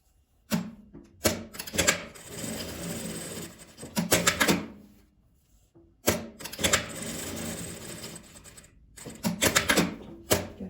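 Sewing machine stitching a multi-pocket fabric pouch, leaving a one-centimetre gap for elastic; several loud bursts of rapid mechanical clatter, separated by short quiet pauses, close by with no talk.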